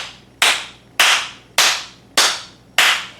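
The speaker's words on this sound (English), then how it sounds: "with my fingers on my left hand, I'm slapping, clapping in my right hand" Flamenco palmas, the fingers of the left hand slapping the right palm: five sharp, loud, evenly spaced claps about 0.6 seconds apart, each with a short ringing decay, close and alone.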